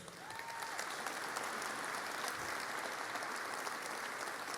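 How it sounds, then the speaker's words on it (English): Sustained audience applause at a press conference for the IndyCar Grand Prix of Arlington, greeting Texas Rangers owner Ray Davis; dense, steady clapping from a crowd fills the room throughout, with no voices over it. "How about a round of applause?"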